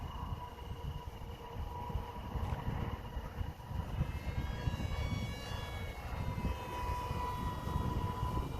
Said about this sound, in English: I'm at full throttle right now. This is a cool little plane.